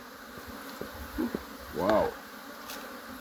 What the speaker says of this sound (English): The bees are getting active and aggressive.